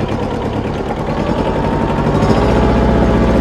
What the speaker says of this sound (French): là tout de suite je suis sur le tracteur